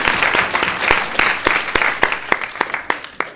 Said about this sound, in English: Please give them a round of applause for serving on the panel.